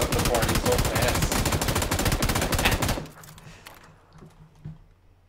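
Sustained automatic gunfire from an M249 and an MK14 in a video game, a loud dense burst of rapid shots lasting about three seconds before cutting off into quiet background game noise.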